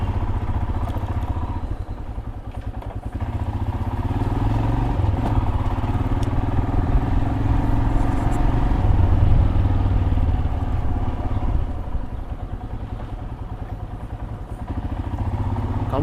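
A motorcycle rumbles steadily along a road for a sustained stretch, its engine drone loud and close with rattling clatter and wind noise mixed in.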